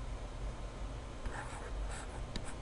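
Pen scratching out a factoring math problem on paper, soft continuous writing strokes with a few brighter scrapes and taps, close and quiet with no speech.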